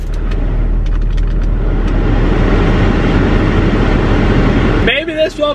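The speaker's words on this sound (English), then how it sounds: "If you guys have a car, does it sound like this when you turn the AC on?" A car's air conditioning roars loudly and steadily inside the cabin as a broad blowing rush, then cuts off near the end, when a voice starts talking.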